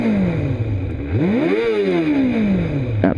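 A Kawasaki ZX2R motorcycle engine revs up from idle, climbing sharply and then easing back down over a few seconds. The sound is loud and close, and no one speaks over it.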